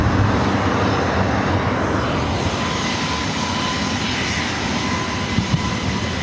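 Aircraft engines at LAX airport produce a steady, broad roar that fills the whole stretch, loud and continuous with no talk over it.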